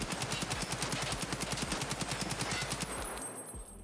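M4A1 rifle fired while crouched in Escape from Tarkov, a single fast, evenly spaced full-auto burst of about twenty-five rounds lasting around three seconds, then stopping.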